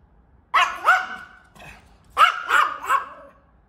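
A dog named Miso barks in two short bursts, first a pair of close, loud barks, then a pause and three more in quick succession, with no talking.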